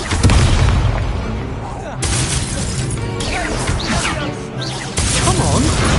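The Incendio fire spell in Hogwarts Legacy goes off as a series of loud whooshing blasts and crashing booms in game combat, with a player talking over them.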